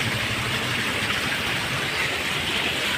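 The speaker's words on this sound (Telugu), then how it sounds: "బయట ఇలా వర్షం అనేది స్టార్ట్ అయిందండి. చూసారా ఎంత ఫోర్స్గా పడుతుందో" Heavy rain from a thunderstorm pouring steadily outside a house and cascading down steps, a dense, constant roar of water with no pauses and no voices.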